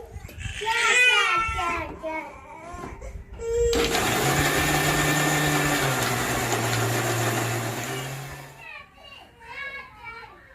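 A kitchen mixer grinds coconut chutney, a loud steady whirring drone with a shifting low hum that runs for several seconds, bracketed by someone talking before and after.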